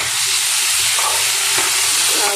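Fish curry with broth simmering in a pan over heat, a steady close bubbling sizzle and hiss running without a break, no voices.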